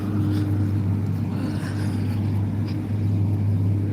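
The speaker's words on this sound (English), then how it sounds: "School buses, because yeah, kids are going to school right now." School buses roll along a residential street of stone and brick houses on a morning walk, giving a loud, steady low engine rumble that never lets up. No one speaks.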